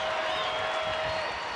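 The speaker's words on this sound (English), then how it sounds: "And the crowd putting their hands together." Baseball crowd at a Houston at Texas Rangers game clapping in the 7th inning, a steady wash of applause and crowd noise under a faint tonal hum.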